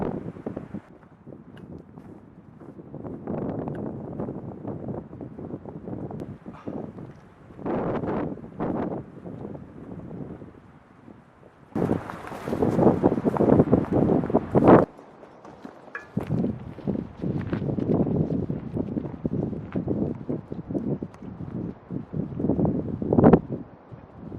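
Strong gusts buffet a tarp shelter in a windy forest, rumbling and flapping in loud, uneven bursts that swell and fade, with occasional rustling close to the microphone.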